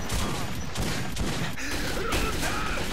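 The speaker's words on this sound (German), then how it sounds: "Oh, die schießen von da." Enemy gunfire in the video game Metro 2033, a dense, continuous rattle of shots crackling across the whole stretch amid loud noisy ambience.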